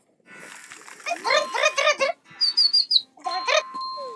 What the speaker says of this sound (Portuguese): Vocês vão escutar o canto dele. Alto e médio e depois baixo.